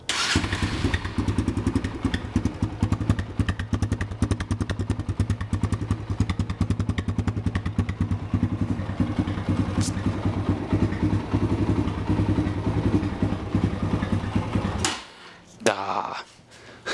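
A 2020 Kawasaki KLX140 dirt bike runs steadily for about fifteen seconds, a loud, close engine drone with rapid revving texture, then cuts off abruptly, leaving a few clunks and thuds.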